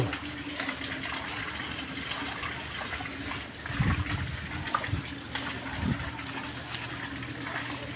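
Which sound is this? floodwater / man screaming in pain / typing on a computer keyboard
floodwater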